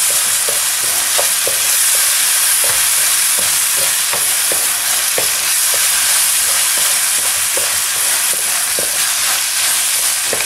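Vinegar sizzles hard in a pan of strawberry risotto, a loud, continuous hiss broken by regular scraping stir strokes.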